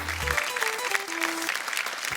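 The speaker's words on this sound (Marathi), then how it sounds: "जोरदार टाळ्या" A studio audience applauds on a Marathi TV game show: steady, dense clapping that continues for about two seconds, with a short run of descending musical tones sounding alongside it.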